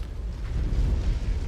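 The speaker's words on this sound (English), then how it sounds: "Enemy mech destroyed." An enemy mech blowing up in the MechWarrior 5 video game, a deep, loud, rumbling blast that rolls on for over a second as a heavy low-end roar.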